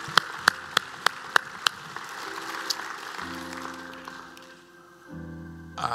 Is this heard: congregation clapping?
yes